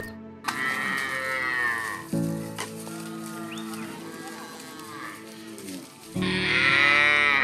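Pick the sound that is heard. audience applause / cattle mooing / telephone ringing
cattle mooing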